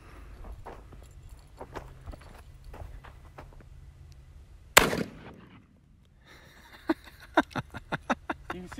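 A shotgun fires once at a golf ball outdoors, a single sharp, loud blast midway with a short decaying tail, surrounded by faint footsteps and scattered clicks.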